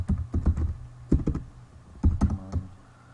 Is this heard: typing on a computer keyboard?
yes